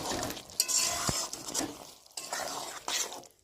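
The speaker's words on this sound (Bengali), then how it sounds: "দিয়ে ভালো করে একটুখানি নেড়ে নেব।" Okra dopiaza stirred in a pan: a few quick scrapes and light utensil clinks over a soft frying hiss in short bursts.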